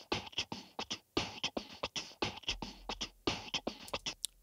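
Chorus loop from a song recorded without instruments, pushed through a high-gain amp: a quiet, steady rhythmic stream of sharp distorted percussive hits repeating in a tight pattern throughout.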